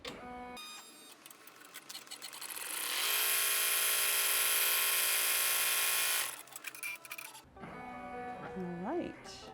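An embroidery machine stitching an in-the-hoop rivet handbag gives a fast, steady mechanical whir that rises into a loud sustained run of needle strikes, then stops, followed by handling noises and a voice.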